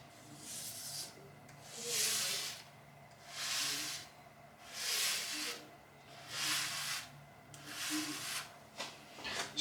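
A Headblade razor fitted with a Gillette cartridge shaves three days of hair growth off a head in about six long, close rasping strokes, each a breathy hiss that swells and fades, with brief gaps between them.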